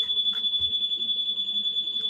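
A home security alarm panel gives off a steady, piercing electronic tone that keeps sounding without a break, loud and close indoors, with a few faint background knocks.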